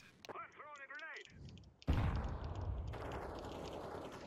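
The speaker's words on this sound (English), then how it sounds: "I'm throwing a grenade." A grenade in Counter-Strike on the Anubis map goes off with a sudden loud blast and a rumbling tail, following a short burst of speech and game noise.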